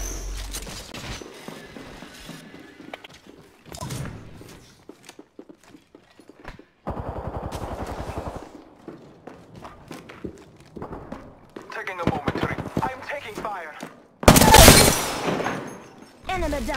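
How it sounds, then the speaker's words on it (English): Bursts of Apex Legends gunfire, sharp shots and rapid volleys scattered between footsteps and movement, the loudest burst near the end, with a voice speaking in between. "Contact with target. Firing. Contact with target. I am taking fire."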